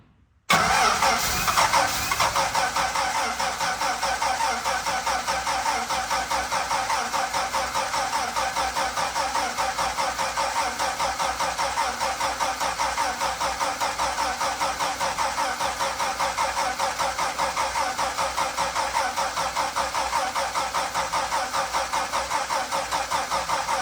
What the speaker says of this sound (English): Right, I'm going to keep cranking it over.